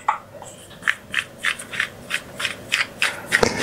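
Two PLA 3D-printed parts, printed side by side, being screwed together, giving a steady series of short, close scraping rubs in an even rhythm, with a sharper click near the end.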